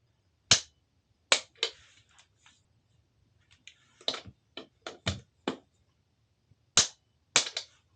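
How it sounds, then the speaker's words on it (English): A long-bar torque wrench tightening a bike rear suspension bolt to 51 newton meters gives sharp, isolated clicks close up, some single and some in quick pairs, spaced irregularly with quiet gaps between them. "And we finish off with the torque wrench."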